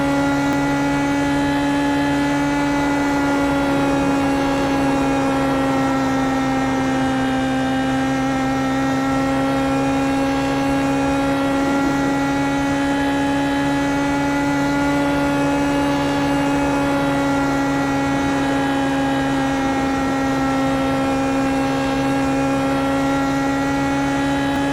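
Steady high-pitched engine drone of an IndyPro2000 open-wheel race car flat out around the Phoenix oval in iRacing, loud and unbroken with stable harmonic whine and no talk.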